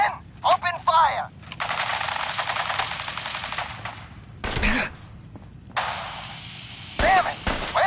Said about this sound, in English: Stop or we'll shoot! Men, open fire!